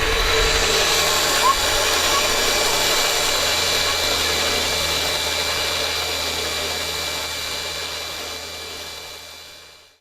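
Smittybilt winch motor on a Jeep JK spooling in cable under tension, a steady whirring electric whine running continuously, close and fairly loud, slowly tapering before cutting off at the end.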